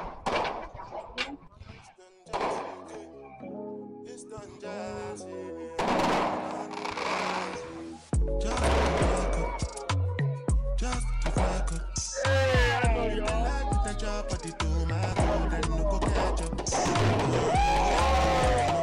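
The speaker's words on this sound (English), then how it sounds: "Y'all, we missing the fireworks." Fireworks bursting over a beach at night, with loud irregular booms and crackling volleys building into a dense, continuous barrage while people talk and shout nearby.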